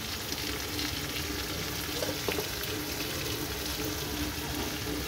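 Meat with spice masala frying in a pan in a village kitchen, a dense, even sizzle with faint stirring clicks, fairly quiet and close, without speech.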